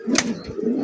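A female pigeon of a fancy breed gives a short, close, soft coo with a faint flutter, alone.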